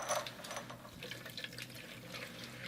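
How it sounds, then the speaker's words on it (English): Water trickles and splashes softly, a faint, irregular flow draining out of a water heater supply pipe nearby. "We might have some water drain down because this section of pipe can't drain easily."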